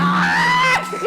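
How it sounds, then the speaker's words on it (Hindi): A man gives a loud, sustained yell with a wavering pitch after being struck on the hand with a hammer, close and dominant, breaking into shorter cries at the end. "तो जब मैंने ये हथौड़ी बापूजी के हाथ में मारी तो बापूजी चिल्लाए।"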